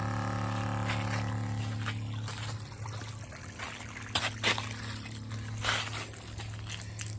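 Water pumped by a Shurflo fresh water pump from an AQUATANK2 storage tank runs out onto the ground in a steady close trickle and stream, with a constant pump hum beneath and a few brief louder splashes.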